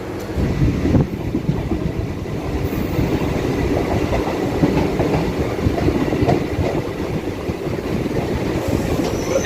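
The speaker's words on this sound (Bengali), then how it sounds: "আমাদের ট্রেন কিন্তু শান্তিপুর জংশনে চলে এসছে" A train pulls into Shantipur junction, wheels clattering over rail joints in a steady rumble with brief squeals, heard from on board at moderate loudness with no voices.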